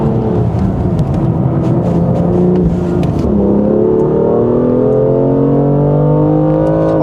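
BMW F87 M2 Competition accelerating hard, heard from the cabin: a loud, continuous engine roar whose pitch climbs steadily through the rev range, with a brief dip around the midpoint before rising again.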